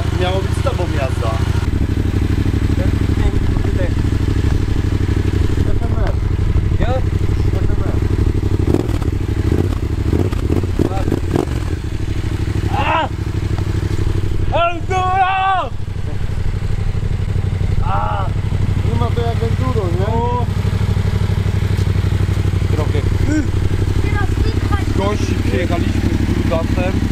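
A Yamaha Raptor 700 ATV quad being ridden outdoors, its engine droning continuously at close range with rises and falls in revs, clattering and thuds mixed in, and people talking over it throughout.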